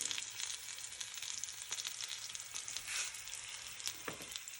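Curry leaves, green chillies and asafoetida sizzle in hot oil while tempering for Telugu pappu charu, a lentil soup. The crackle is steady, quiet and close, with no voices over it.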